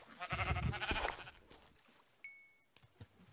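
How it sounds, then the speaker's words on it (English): Sheep bleats from the video game Minecraft: a short bleat near the start under a bed of noisy game sound, then faint scattered calls and a brief tonal chime later, fairly quiet overall. "okay, now I hear the sheep."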